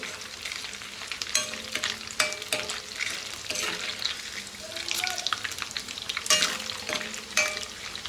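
Food fries in a pan with steady sizzling and repeated stirring scrapes, cooked until golden, close and fairly loud with no talking.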